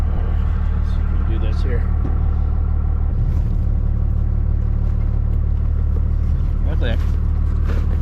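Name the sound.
pickup truck backing up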